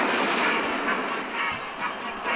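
A goblin party rocket launches in a mobile strategy card game, a broad rushing blast that roars steadily for a couple of seconds at moderate loudness with no voices.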